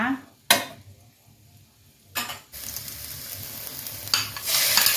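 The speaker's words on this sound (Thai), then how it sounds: "ใส่กระเทียมลงไปเลยค่ะ เดียวกระเทียมให้เหลืองนะคะ" Garlic being stir-fried in a pan while cooking cucumber with egg and shrimp, giving a steady close sizzle with repeated scraping stirs of a utensil against the pan, the sizzle growing louder toward the end.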